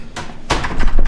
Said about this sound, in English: All these doors are super heavy.